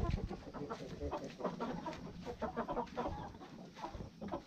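Giant Indian gamecocks and hens in a Brazilian poultry breeding yard cluck and chatter continuously, several birds overlapping at moderate distance with a steady rustling farmyard backdrop.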